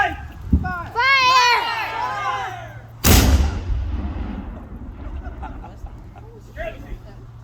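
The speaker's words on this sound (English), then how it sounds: "That was a cannon. That was one cannon." A single loud cannon blast at a historical demonstration at Yorktown booms out after a shouted command, then rolls away in a long echoing rumble, with people talking before and after.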